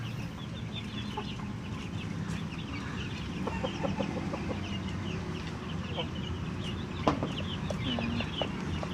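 Many hens cluck in a cramped coop, some of them suffering from a cough and breathing trouble, with a steady overlapping chorus of clucks and short calls and occasional louder squawks near and far.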